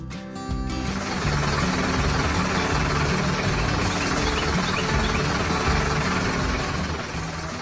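A cartoon tractor with a liquid fertilizer spreader runs its engine, a loud, continuous mechanical drone that kicks in after a brief moment and holds steady throughout.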